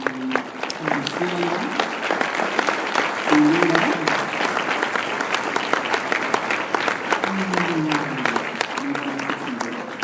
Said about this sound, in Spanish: Yo quisiera que le diéramos un aplauso